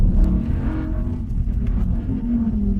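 Lamborghini Huracán Tecnica engine rumbling steadily at close range, a deep continuous drone with slight swells in intensity and no talk.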